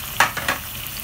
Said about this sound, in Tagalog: Igisa lang natin ang ating belly.